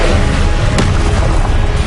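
Confringo fire spell blast in the Hogwarts Legacy video game: a loud, dense rumbling boom that fills the moment, with one sharper burst partway through.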